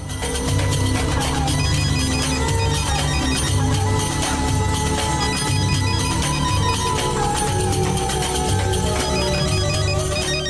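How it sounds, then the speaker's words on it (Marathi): A phone ringtone plays continuously, loud and steady, with a busy tonal melody repeating throughout and no voices. "रिंग जाते, उचलतील ते फोन."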